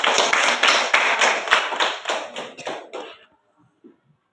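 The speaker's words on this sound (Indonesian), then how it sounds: "Kita tepuk tangan untuk Angel." A group of school students clapping for a classmate named Angel after a prayer, in a rhythmic burst of about a dozen loud claps that fades out, followed by near silence.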